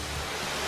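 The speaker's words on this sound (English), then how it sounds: "Oh, there's a waterfall." Waterfall at a zoo, a steady broadband rush of falling water heard close and fairly loud, with no talk.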